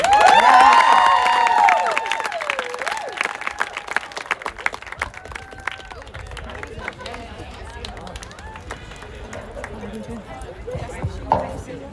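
A crowd at a school sports awards ceremony applauds a spring coach, dense continuous clapping with some cheering that follows a speaking voice and carries on at a moderate level to the end.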